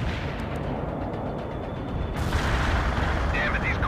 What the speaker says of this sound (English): Artillery is available. Firing at coordinates.